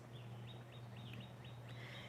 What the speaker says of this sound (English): there's like 4 hawks right now